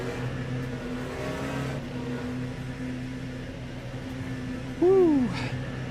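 Race car engines from McLaren machines in the Le Mans Ultimate racing game, a steady mid-pitched engine drone running throughout, with a brief rising then falling rev sweep near the end.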